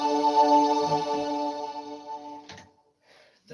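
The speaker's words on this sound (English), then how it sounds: "That's your strings and your organ." Electronic organ sounding its strings and organ voices together, a held chord with a sustained tone that fades out, followed by a brief pause and a faint note.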